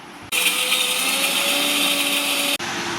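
A kitchen blender whirring loudly and steadily for about two seconds as it blends dried chilli, garlic, vinegar and coconut oil into mayonnaise, with a rising motor whine that cuts off abruptly.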